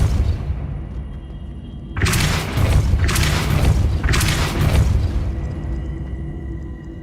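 Depulso spell in Hogwarts Legacy gameplay: a quiet lead-in, then three loud, broad whooshing blasts about a second apart, with crackling debris that fades out afterward.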